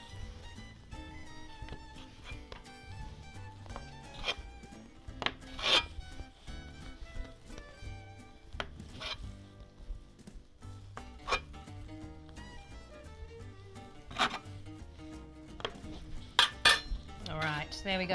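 A knife cuts pizza dough into roughly 18 equal pieces on a board, with scattered soft taps and scrapes and a few sharper clinks against the surface, fairly quiet and irregular.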